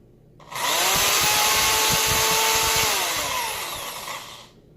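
A power drill spins up to twist lengths of wire together for a vaping coil, a loud steady motor whine starting abruptly and holding for a couple of seconds before winding down as the drill slows and stops.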